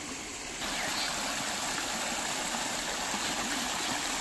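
Water gushes steadily from a pipe fed by an electric pump motor, a continuous rushing flow that jumps louder after a quiet first half-second and then holds constant, with no talking.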